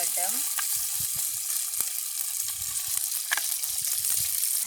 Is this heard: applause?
no